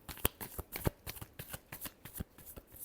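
Tarot cards are shuffled by hand in a quick, close series of crisp riffling slaps and flicks. The sound is quiet overall and comes alone, with no other noise.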